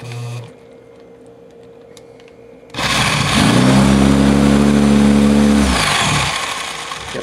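A drill bores a 7/16-inch hole into a wooden baseball bat, starting after a quiet stretch with a loud, steady grinding whine that holds for several seconds then eases off near the end.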